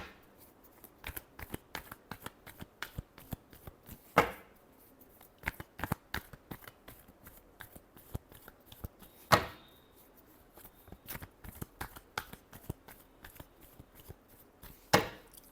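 Tarot cards are shuffled by hand in a steady patter of soft slaps and flicks, broken by three louder riffling bursts spaced several seconds apart, close and without talk.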